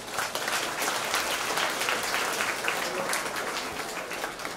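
Sustained applause from an audience at an International Day for Older Persons event, a dense, even roar of many hands clapping at steady loudness throughout, with no speech.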